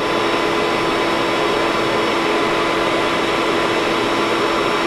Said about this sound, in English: And I'm going to turn on the blower.